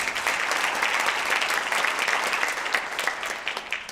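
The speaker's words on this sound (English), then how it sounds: "Please give her another round of applause" An audience at a philanthropy forum gives sustained, steady applause, loud and dense throughout with no talk over it.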